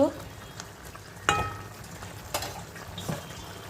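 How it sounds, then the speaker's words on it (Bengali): Small mourala fish go into a hot pan of frying vegetables for a Bengali chorchori, setting off a brief sizzle burst with stirring and scraping following at a moderate, close level. "এবার আমি এতে মাছগুলো দিয়ে দেবো"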